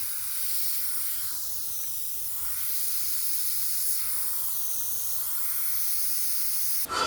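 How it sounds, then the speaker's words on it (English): Airbrush spraying paint in a home studio, giving a steady, continuous airy hiss that holds evenly throughout, close and alone with no talk. "See how I move the airbrush?"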